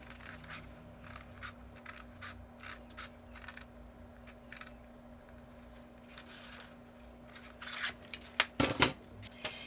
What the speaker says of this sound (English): So I'm going to cut there, and then I'll turn this and cut along my pencil line here.